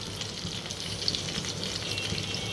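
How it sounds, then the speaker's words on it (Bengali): Chicken pieces frying in a pan give a continuous, moderately loud sizzle with faint crackles throughout, and no talking. "একটু চিকেন ফ্রাই করতে দিচ্ছি"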